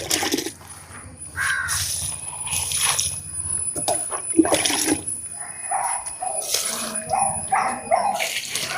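Liquid manure fertilizer made from fermented rice-starch water poured from a bucket onto plants, heard as an uneven series of close splashing, gushing bursts over soft outdoor background noise.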